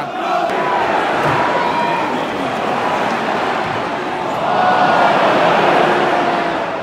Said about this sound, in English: The Sunderland crowd have woken up now.